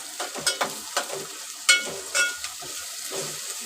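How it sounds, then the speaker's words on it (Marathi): Ginger, garlic and onion sautéing in a pan for chicken rassa, a soft frying sizzle broken by repeated scraping stirs at an irregular rhythm, close and moderately loud with no talking. "हे चांगलं इथे परतून घ्यायचं हे चांगलं भाजून घेते मी"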